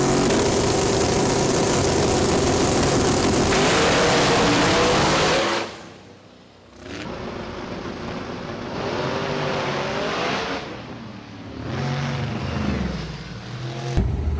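A Pro Mod drag race car of about 5,000 horsepower being tested, its engine roaring loud and steady for several seconds, then cutting off before rising again in uneven revving bursts.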